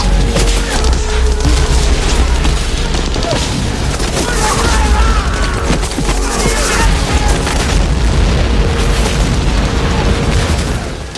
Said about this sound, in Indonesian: Satu persatu tembakan mortir dan peluru dimuntahkan oleh pasukan Jepang.